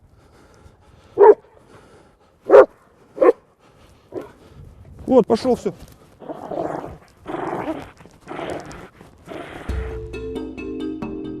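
A police service dog in border guard training gives several sharp barks and growls up close, mixed with a handler's shouted commands and other voices, ending in a burst of rough noise.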